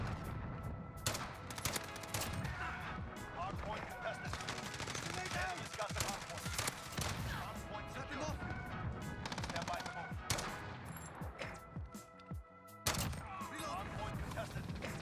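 Rapid, sharp gunshots from a Dragunov sniper rifle in the Modern Warfare video game crack repeatedly amid dense battle noise, loud and close, with someone talking over the action.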